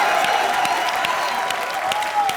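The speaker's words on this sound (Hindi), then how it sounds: "जोरदार तालियों से स्वागत कीजिए" Studio audience on a Hindi TV comedy show applauds warmly as guests are welcomed, a steady patter of many hands clapping at moderate volume with no speech over it.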